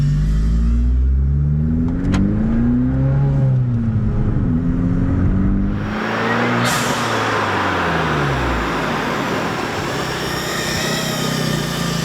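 A Fiat 500 Abarth engine revs hard on a timed lap, its pitch climbing and falling through gear changes, then shifting into a broad, rougher roar partway through.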